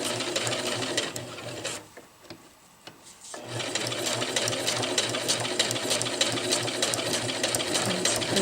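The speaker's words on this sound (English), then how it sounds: "we are stitching on the left side of this stitch, and the right side goes actually off the fabric" A sewing machine runs an overcast stitch along the edge of fabric for a zippered bag, a steady close mechanical whir that pauses briefly near the two-second mark before resuming at an even pace.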